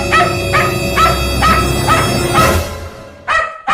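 A voice imitates a dog, giving a run of about six short, loud yelping barks in quick succession, close to the listener, ending with a brief pause and one last yip.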